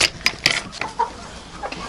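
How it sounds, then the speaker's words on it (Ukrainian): Chicks kept in a greenhouse during frost give several short, bright peeps and clucks spaced through the moment, fairly close and moderately loud over a soft background. "Це оцих курчаток, які в мене в теплиці"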